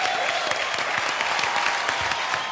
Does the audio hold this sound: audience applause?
yes